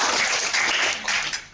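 A crowd claps together at a local climate league gathering in Indore, a thick continuous patter of many hands, fairly loud and close, fading slightly toward the end.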